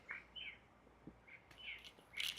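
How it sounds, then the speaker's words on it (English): Birds chirping outdoors, a few short, high tweets scattered across a couple of seconds, faint and somewhat distant, with brief louder chirps near the end and no talk over them. "hear the birds chirping, if y'all could hear it"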